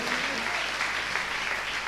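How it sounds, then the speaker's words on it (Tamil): Church congregation clapping during a Tamil Sunday service: a short burst of dense, steady applause from many hands, fairly close and continuous for the whole clip. "ஆண்டவருக்கு நல்ல ஒரு கைத்தட்டி கொடுங்க."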